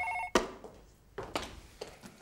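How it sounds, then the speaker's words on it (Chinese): A telephone rings in short electronic bursts, then stops, and footsteps and small knocks follow in an otherwise quiet room. "李老师，我接个电话。"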